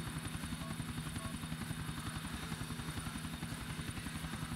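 A helicopter in the video game GTA4 gives a loud, steady rotor chop, a fast even pulsing thump over an engine whine that holds throughout, with no talking.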